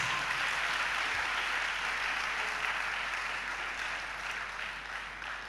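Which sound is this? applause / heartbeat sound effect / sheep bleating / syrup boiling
applause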